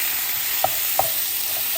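Minced meat sizzles steadily as it browns in a hot frying pan, a loud hiss close by with a couple of soft scraping stirs.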